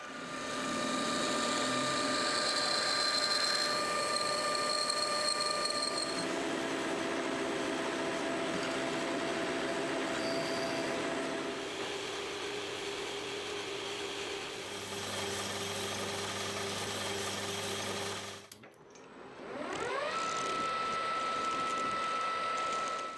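A metal lathe cuts a chamfer on the back of a flywheel, with a sustained whining tone and shifting harmonics for most of the run. The tone briefly drops away near the end, then the machine spins back up.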